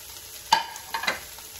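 Chicken fajita with chiles and chopped onion in a frying pan gives a soft sizzle, with a couple of quick stirring clinks and scrapes over a faint background hiss.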